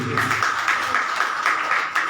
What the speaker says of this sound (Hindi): बजाओ ताली प्रभु के लिए